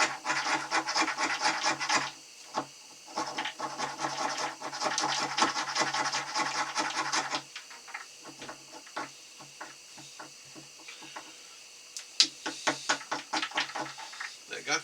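Fatwood being scraped with a blade to build a pile of shavings for a fire kit, a close, steady rasping scrape in repeated rapid strokes, pausing briefly before resuming in shorter bursts.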